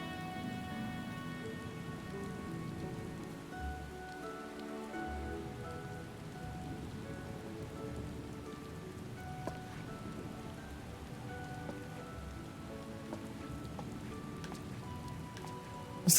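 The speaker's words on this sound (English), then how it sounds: "Of course it's raining." Steady rain patters on surfaces in a Final Fantasy XIV Endwalker scene, a continuous soft wash with faint scattered drops and a low rumble underneath, gentle and even throughout.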